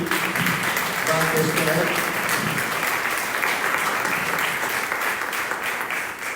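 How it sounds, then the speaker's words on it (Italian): A sustained round of applause fills the room from the audience at a book presentation, dense steady clapping with a speaking voice briefly heard over it early on. "chiedo un applauso sulla fiducia, soprattutto a Marzio Mian"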